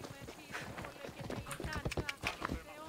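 Horse hooves clip-clopping in the video game Assassin's Creed Odyssey, a steady trotting rhythm of close hoof strikes under someone talking.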